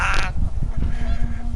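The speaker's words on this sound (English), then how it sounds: "panicked geese appeared and quickly went" Panicked geese honk in a windy outdoor scene in the video game What Remains of Edith Finch, a brief flurry of harsh calls over rushing wind noise.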